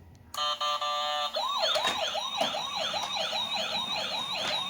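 A toy ambulance with lights sounds its siren, starting with a short beeping tone, then warbling in fast repeating electronic wails, loud and close, with a few clicks.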